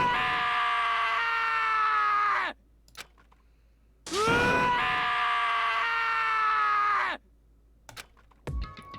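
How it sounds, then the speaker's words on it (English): A character screams during an execution in the Danganronpa game: two long, loud, wavering screams separated by a short silence, each cut off abruptly, with brief clicks and noises between. "As Taka's sad screams invaded our skulls"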